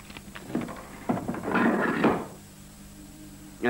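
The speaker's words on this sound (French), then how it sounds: "Pourquoi fermez-vous cette porte?" A door swings and shuts with a couple of wooden knocks, then a broad scraping rush and a closing thud, fairly near in a quiet room, followed by stillness.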